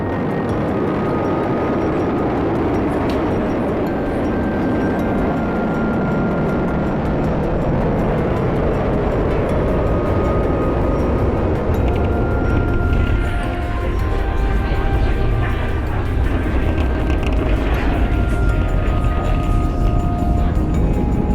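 A SpaceX Falcon 9 rocket carrying the Crew 10 mission climbs after launch, its engines producing a continuous, heavy broadband roar that stays loud and steady throughout.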